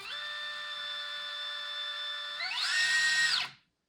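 An IA Evo electric motor whines steadily at a held pitch, then throttles up through its ESC to a higher, louder whine before cutting off abruptly near the end, with no talking.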